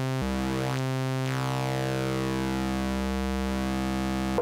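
Korg Minilogue XD synthesizer holding a steady, loud tone rich in harmonics while its oscillator shape knob is turned, so the timbre sweeps and morphs, with a brief drop in the low end near the start.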